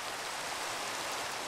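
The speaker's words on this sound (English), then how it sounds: "And now it's raining." Steady rain falling in Minecraft, an even broadband hiss with no breaks or individual drops standing out, continuous and moderately loud with no voices.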